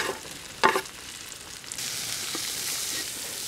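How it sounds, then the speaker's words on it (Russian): A spice mix and garlic fry in hot oil in a kazan over a charcoal grill for a Texas-style beef stew: a steady close sizzle with a sharp stir or clatter early on. "Теперь слегка это все дело обжариваем."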